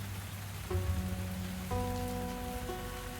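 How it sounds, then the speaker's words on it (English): Steady rain patters on a surface in the cozy tavern video game Tavern Talk on a stormy night, a continuous soft wash with a few gentle musical tones layered over it and no talking. "It was a dark and stormy night."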